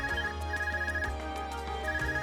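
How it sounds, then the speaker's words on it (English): Electronic ringing of an ARCUS communicator in the video game Trails of Cold Steel, a repeating trilling ring pattern, fairly quiet and alone. "Is that your Argus ring?"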